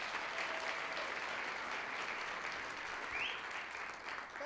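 Audience applause at a women's observance event, a full room clapping steadily and evenly for the whole stretch with a few faint whoops.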